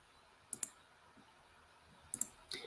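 Quiet, close mouse clicks on a software button: two quick double clicks separated by a pause, then a softer final click, in near silence.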